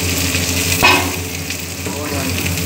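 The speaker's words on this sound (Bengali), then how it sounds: "এতিয়া আমি অনিয়নটো ভাজি লওঁ" Onion frying in a pan for an Assamese banana and sesame dish, a steady close sizzle with a brief louder crackle burst partway through, no talking.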